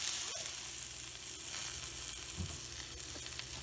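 Fajitas with green peppers sizzling in a hot pan, a continuous close crackling fry with a faint scrape or stir partway through, no talking.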